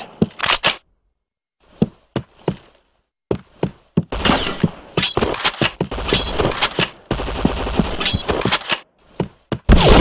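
Gunfire from the Point Blank shooter during a clan training match: bursts of sharp, close shots separated by short pauses, building to a long stretch of dense rapid fire.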